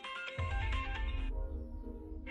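A phone ringtone plays a bright melodic tune in a Hindi-dubbed Hollywood movie scene, repeating clearly up close before it cuts off.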